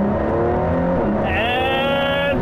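A 2020 Ford GT engine pulls hard and loud and close, its steady drone climbing sharply in pitch partway through as the car accelerates.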